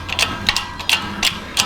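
Hand-cranked metal bending tool working on metal for patio truss purlin cups, producing a series of sharp ratcheting clicks in an uneven rhythm, close and loud.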